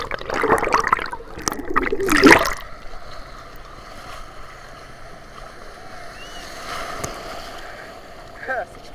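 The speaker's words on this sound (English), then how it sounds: "Huh, such big waves." Big Atlantic ocean waves crash and churn at Rockaway Beach, with a loud close wash early on that fades into a steady surf rumble, and another swell rises near the end.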